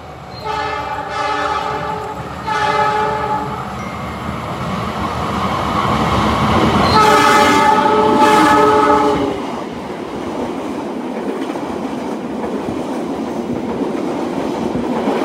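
A Kahuripan passenger train on the Bandung to East Java run sounds two long, loud horn blasts over a steady rumble and rattle of wagons rolling along the rails.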